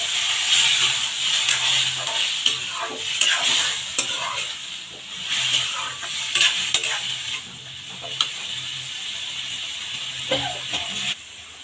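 Chicken braising with spices and a splash of water for chicken bhuna khichuri, hissing and sizzling in pulses as it is stirred, close and fairly loud with spoon scrapes.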